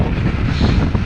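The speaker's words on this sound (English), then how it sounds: "what you can't see in the camera though is how windy it is" Strong autumn wind buffets the microphone during a long-distance road bike ride, a loud, continuous low roar with gusty fluctuations and no talk.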